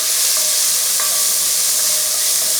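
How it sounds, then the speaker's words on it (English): Onions stirred in a hot pan, a steady loud sizzle and hiss filling the whole stretch with a few faint scrapes of the spoon, no voices. "Add our onions in. Give this a nice stir."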